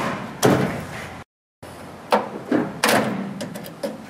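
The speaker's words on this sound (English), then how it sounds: "we have to take out one of the slides" Metal drawer slide being pulled out of a TCA tool storage box, a series of sharp metallic clanks and sliding scrapes in separate bursts with a brief silent gap, close and loud, no talk.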